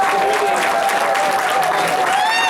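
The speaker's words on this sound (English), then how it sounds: "Let's give him a great round of applause." Loud, steady applause from an audience at a Los Angeles Democratic Party convention caucus meeting in March 2014, a dense wash of clapping that carries unbroken through the whole moment with a faint tonal voice riding over it.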